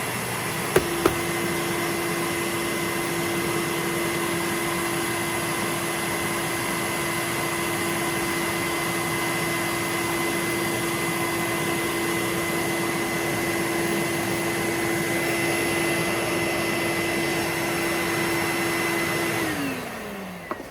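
An Electrolux Epic upright vacuum cleaner motor runs loud and steady at close range with a constant whine and roar for about twenty seconds, then winds down at the end. No one speaks.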